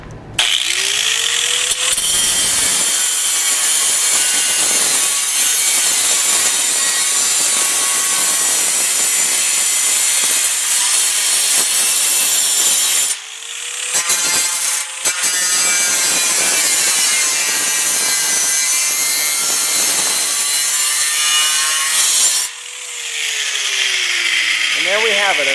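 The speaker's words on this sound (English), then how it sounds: "we're going to also have to make a slit here where we need it." A power tool cuts a slit in a metal stud track, a loud continuous grinding whine that runs for long stretches, pausing briefly twice before starting again.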